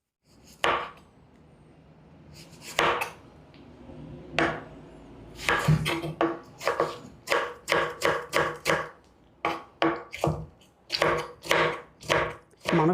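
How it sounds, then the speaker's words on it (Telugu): Knife chopping a medium-sized tomato into small pieces on a board: a series of sharp, close taps, sparse at first and then quickening into a steady rhythm, with no talk. "ఇప్పుడు ఒక మీడియం సైజు టమాటాని చిన్న ముక్కలుగా కట్ చేసుకుందాం."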